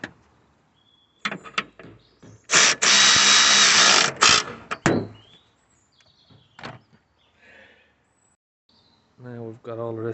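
Power tool driving bolts back in while refitting a Toyota Auris engine, two short whirring bursts, one longer, close, with clicks and handling noises around them and a voice speaking at the end.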